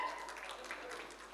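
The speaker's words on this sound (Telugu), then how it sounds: "క్లాప్స్ గట్టి కొట్టాలి" An audience at a school function with teachers and parents claps together, a soft, distant patter of applause that stays even and faint throughout.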